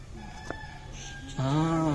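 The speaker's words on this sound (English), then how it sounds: "you can hear the cocks crowing" A rooster crows outdoors: a single long, loud crow starts about two-thirds through, following quieter fowl calls and a faint distant crow earlier, with steady background ambience.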